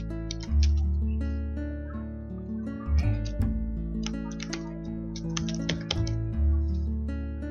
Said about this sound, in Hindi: जैसे मैं यहाँ पर टाइप कर लेता हूँ